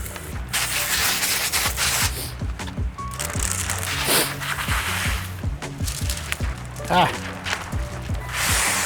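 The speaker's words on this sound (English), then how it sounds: "Spray the whole window." Water solution is sprayed over a 2025 GMC Hummer EV window before tint film goes on: short hissing bursts of spray, close by, mixed with light rubbing and handling noises while someone talks.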